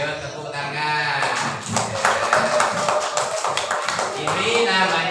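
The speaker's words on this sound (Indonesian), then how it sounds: "Pintar semua, ayo tepuk tangan." Children clap their hands together in a classroom, a rapid run of crisp claps following a teacher's voice, with speech before and after the clapping.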